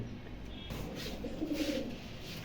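A pair of pigeons for sale coo softly and low, a short muffled burble heard close against a faint background hiss, with no talking.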